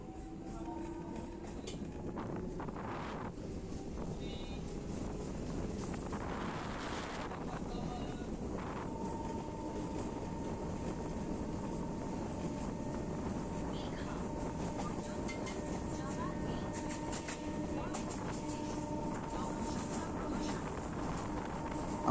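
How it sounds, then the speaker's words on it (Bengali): A local train on the Howrah to Digha line rumbles steadily across the Haldi river, a continuous broad roar with wind buffeting and faint clatter, a high tonal whine emerging midway. "আমাদের ট্রেন এখন পার করছে হলদি নদী"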